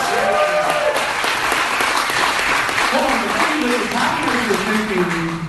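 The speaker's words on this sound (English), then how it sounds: "Everybody give him a big round of applause." Audience applause for a departing guest at a live podcast taping, a dense, steady wash of many hands clapping throughout, with cheers and voices mixed in underneath.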